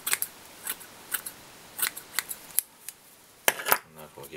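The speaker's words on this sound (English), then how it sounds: "if I take my fly and I hold it upright, I can now trim it" Scissors trimming a slimline silver roach pike fly from the rear forward, a handful of close, crisp snips in an uneven rhythm, with someone speaking near the end.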